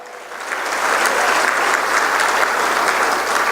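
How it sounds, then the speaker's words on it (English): Audience applause at a charity gala, a dense wash of clapping that quickly swells and stays loud and steady, with no talk over it. "Give her a big round of applause."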